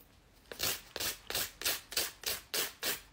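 A nail file rasps across fingernails in about seven even back-and-forth strokes, close and fairly soft, with no talking over it.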